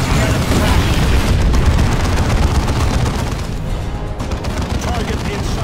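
In the Dawn of War 2 video game, an Eldar Fire Prism grav tank's cannon blasts amid dense, continuous battle booms and gunfire, loud throughout with no clear pause.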